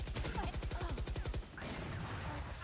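Rapid bursts of automatic gunfire from a first-person shooter game, loud and close, firing in a steady rhythm for over a second before giving way to quieter game noise.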